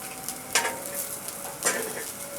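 Mixed vegetable kebabs fry in a pan with a moderate sizzle, close by, broken by two brief scraping stir or flipping sounds and a faint steady hum underneath.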